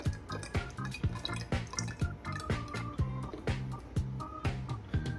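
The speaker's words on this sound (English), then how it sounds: "I'm gonna fill my barbecue sauce bottle." Barbecue sauce glugs into a squeeze bottle in a run of regular, close, soft liquid plops and drips, about two per second, with no talking.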